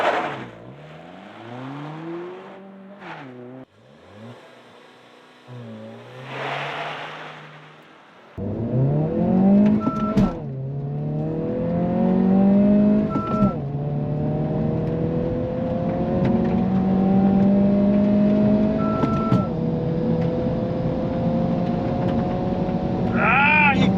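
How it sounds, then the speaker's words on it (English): A 2022 Honda Civic Si and a VW Jetta GLI accelerate hard in a roll race, the engine note climbing through rising whines with gear-change breaks, loud and sustained from inside one car. "the one that we're going to do now is a roll"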